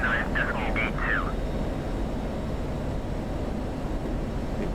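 A heavy jet aircraft in DCS World takes off with a steady, loud broadband roar that holds throughout, and a brief radio-like voice is heard at the start.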